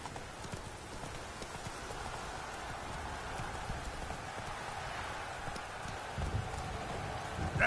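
Horse Roach galloping in a video game, a steady clip-clop of hooves running continuously at close range over soft rain-like patter.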